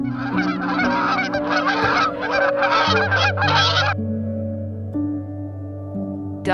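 A swan gives a loud run of nasal honking calls in quick bursts, then stops. A sustained tonal backing follows in the background.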